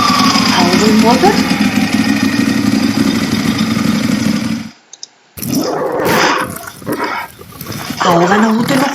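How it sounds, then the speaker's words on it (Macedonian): An angry dog snarls and barks aggressively in harsh, close bursts after a brief silence, following a loud rumbling motor that fills the first half. "А ова налутено куче?"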